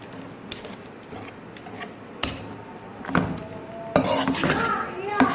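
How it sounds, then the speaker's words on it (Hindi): Brain masala roasting over a high flame, with soft sizzling and scraping stirring strokes against the pan that grow louder and busier toward the end. "अब इसको थोड़ी हाई फ्लेम पर हम इसको अच्छे तरीके से भूनेंगे।"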